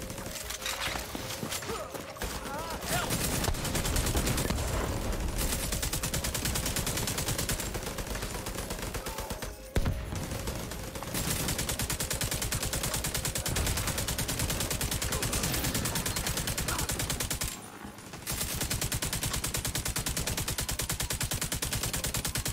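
Video game gunfire crackles almost nonstop in rapid automatic bursts, broken by a few brief pauses, fairly quiet and steady throughout with no voices over it.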